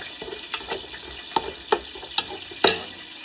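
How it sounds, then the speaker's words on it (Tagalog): Garlic and onion sauté in a pan with a steady sizzle, broken by several sharp clanks and scrapes of a utensil stirring against the metal, the loudest one near the end. "maglagay tayo ng garlic saka onion. Okay? And then saute natin"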